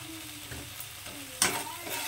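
Tomato with salt and spices sautés in a pan, a brief, soft frying sizzle with a stirring scrape and one sharper clatter partway through.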